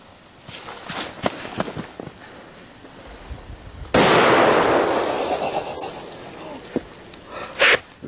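An M80 firecracker goes off among plastic toy figures with a sudden loud, close blast that decays over a couple of seconds, preceded by scattered small ticks and pops and followed by another sharp burst.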